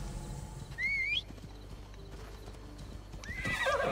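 Horse in Assassin's Creed Odyssey neighing twice, with a shrill whinny early and another near the end, over steady hoofbeat clip-clop and game ambience, no speech.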